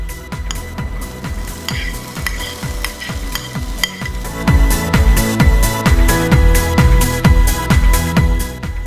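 Chopped carrot, capsicum and tomato are stirred into onions frying in a pan for upma, with a steady loud sizzle under rhythmic scraping stirs that grows busier partway through.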